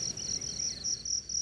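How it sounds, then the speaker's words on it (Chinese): A cricket-like insect chirps in a steady run of rapid, high, evenly spaced pulses, fairly quiet and alone against a soft background hush. "这是一个虫鸣哈。"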